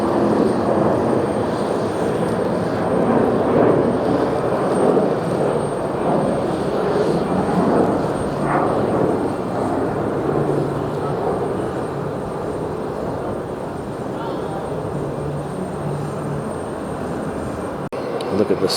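Jet airliner taking off at JFK airport, a steady, broad engine roar that holds loud and constant for the whole stretch, heard from outdoors at a distance with no talk over it.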